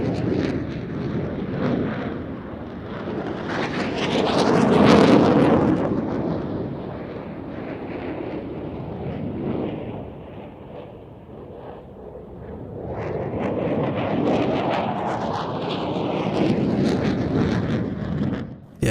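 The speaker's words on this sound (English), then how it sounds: "The F-16 completing that Cuban 8, and both aircraft heading out to the left-hand side for the next manoeuvre." Pakistan Air Force F-16 and JF-17 Thunder fighter jets performing air show manoeuvres under clear skies, a broad roaring rush that swells loud as they pass, fades, then builds again, with wind buffeting the microphone.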